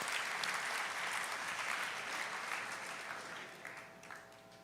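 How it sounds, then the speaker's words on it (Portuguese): An audience claps together in loud, dense applause that gradually fades out near the end. "uma salva de palmas para Jesus pela linda voz de vocês"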